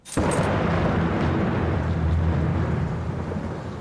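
Thunder from a storm in the horror video game Layers of Fear, a loud, close rumbling crack that rolls on heavily for several seconds and slowly fades, with no talking.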